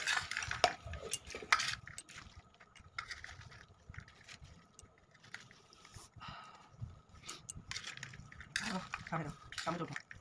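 A spoon stirring garam masala spice mix in a metal bowl, irregular clinks and scrapes of metal on metal, close and fairly quiet, with some voices in the background.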